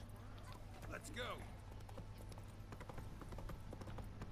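Horse hooves clip-clopping at a gallop in The Witcher 3: Wild Hunt, a steady rapid beat mixed with game sounds and someone talking over it.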